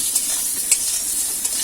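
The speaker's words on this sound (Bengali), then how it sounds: "বেগুন ভাজা হচ্ছে" Eggplant slices frying in a pan in a home kitchen, a steady close sizzle with a few soft clinks from a utensil, no voices.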